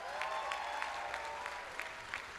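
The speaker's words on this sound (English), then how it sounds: "I think they deserve another round of applause." Clapping from a large college commencement audience rises as a dense, fairly faint wash with rhythmic bursts of claps, heard from a distance in a big hall.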